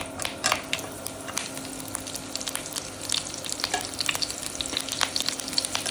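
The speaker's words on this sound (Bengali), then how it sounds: "এবার এটাকে তিরিশ সেকেন্ডের মতো ভেজে নেবো" Garlic, bay leaf, mustard seeds and dried chili fry in hot oil with a steady close sizzle, dotted with sharp pops and crackles as the spices spatter, and occasional stirring scrapes.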